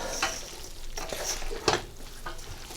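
Japchae, Korean glass noodles, being stirred and tossed in a frying pan, with a steady sizzle under irregular scraping strokes and one sharper clack near the middle, close and moderately loud, no talking.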